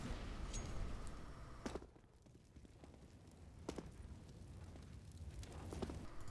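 Molotov incendiary grenade thrown in CS:GO on the Mirage map: sharp glassy impacts and a rushing burn with crackling flames, mixed with scattered in-game footsteps at moderate loudness.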